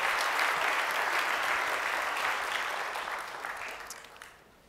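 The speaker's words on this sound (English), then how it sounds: "A big round of applause for them." Audience at a United Way education town hall gives a sustained round of applause, dense and steady, then tapers off near the end with no talk over it.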